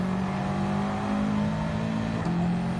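A race car engine in Gran Turismo 7 holds a steady, loud drone through a short-shifted run downhill on the Dragon Trail circuit, with a brief dip in pitch near the end.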